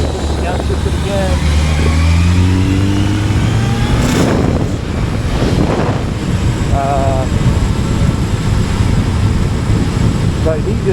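Kawasaki ZRX 1100 motorcycle engine dropping revs through downshifts on a ride, with falling and rising harmonic whine under heavy wind buffeting on the microphone, loud and close throughout.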